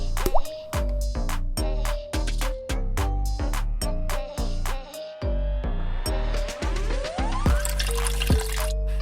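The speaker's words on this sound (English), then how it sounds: "Let it drain out, and as we do, pour out the excess water, let it drain." Water draining from freshly watered plant pots in a dish garden, falling in quick, steady drips and plops close by, with no voices.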